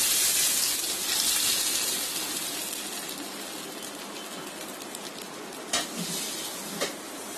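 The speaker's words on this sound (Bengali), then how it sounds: "এখন আমি ভাজা সরিষার তেল, শুকনো মরিচ, কালো জিরা আর আস্ত জিরা যে ভেজে রেখেছিলাম সেটা এই সবজির উপরে দিয়ে দিচ্ছি" Hot fried mustard oil with dried chilies, black cumin and whole cumin poured over cooked vegetables gives a steady close sizzle that slowly fades, with a couple of faint clinks near the end.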